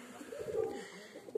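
A single soft, low coo from a pigeon, faint and brief against quiet background.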